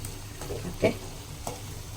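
Fried fish pieces in onion masala on low heat in a pan, a soft steady sizzle with a few quick spoon-scraping stirs, fairly quiet and close.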